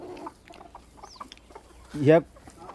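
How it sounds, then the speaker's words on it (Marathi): Farm chickens feeding alongside goats give a few soft clucks, then one louder, rising squawk near the end, close by against quiet farmyard background. "आणि कोंबड्या पण वर येऊन खायला लागल्यात"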